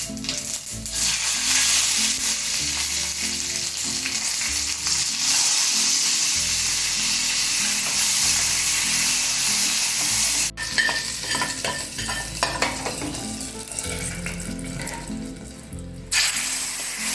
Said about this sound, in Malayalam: നമുക്ക് താളിച്ചു കൊടുക്കാം.